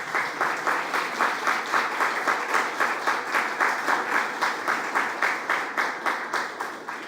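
An audience at a climate justice and human rights event applauds, a steady wash of many hands clapping with a slightly pulsing rhythm, moderately distant and sustained before tapering off at the end.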